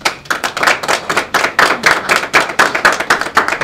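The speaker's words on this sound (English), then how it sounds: "Can we please give them a round of applause?" An audience at a Nollywood film-industry event applauds: loud, close, sharp individual claps in a fast, slightly uneven rhythm, continuing steadily throughout with no talking.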